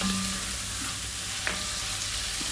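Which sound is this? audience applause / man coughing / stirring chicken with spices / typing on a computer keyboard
stirring chicken with spices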